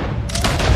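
Rapid burst of gunfire in Red Dead Redemption 2 on PS4, a dense fusillade of overlapping shots swelling louder toward the end.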